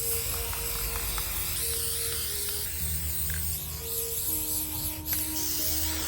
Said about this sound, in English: I think this is my 4th spray.